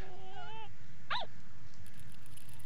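A dog in the video game Yomawari: Midnight Shadows gives a drawn-out whimpering whine followed by a single short, sharp yip over quiet game ambience.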